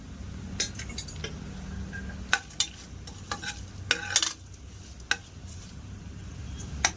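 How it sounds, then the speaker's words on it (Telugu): Biryani spices dropped into hot oil, with a low sizzle of frying under scattered clinks and scrapes of a metal spoon stirring in the pot, close by and without speech. "Oil heat ఎక్కిపోయింది. ఇప్పుడు ఇందులో మనం తీసుకున్న స్పైసెస్ అన్నీ కూడా వేసేస్తున్నాం."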